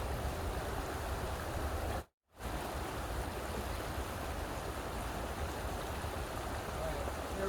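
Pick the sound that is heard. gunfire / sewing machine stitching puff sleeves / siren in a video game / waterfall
waterfall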